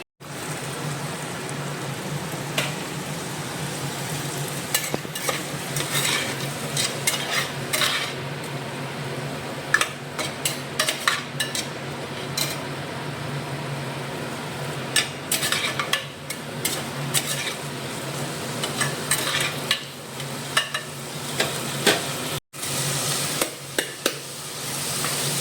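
Food is stirred and fried in a pan in a home kitchen, giving a steady sizzling hiss under frequent scraping clinks of a utensil against the pan, loud and continuous.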